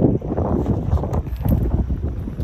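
Gusty wind blowing outdoors in Tagaytay, rough buffeting rumble against the microphone rising and falling in bursts, loud and close.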